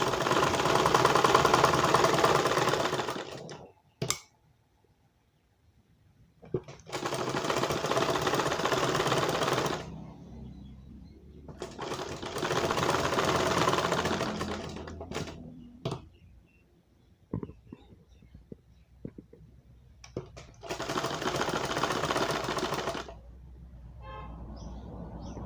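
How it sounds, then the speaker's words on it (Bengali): Sewing machine stitching the round neckline of a blouse, four steady rattling bursts of stitching up close, each a few seconds long, with short quiet pauses and small clicks between runs. "দেখেন এইভাবে সেলাই করে দেবেন, তাহলে আপনার গলার রাউন্ডগুলো সুন্দর হবে।"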